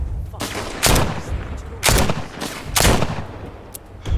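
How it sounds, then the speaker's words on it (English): Three loud, heavy gunshots ring out about a second apart in The Walking Dead: Saints & Sinners, each a close booming blast with a short tail, over a low background rumble. "I gotta hit these shots. I gotta work on my aim."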